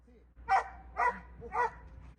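Search and rescue dog barking three times in a steady rhythm after an earthquake, moderately close, over low background noise.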